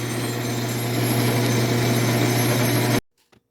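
A metal lathe turning low-grade steel at modest RPM makes a steady, loud mechanical hum with a strong low drone for about three seconds, then cuts off abruptly, leaving near silence and a couple of faint knocks.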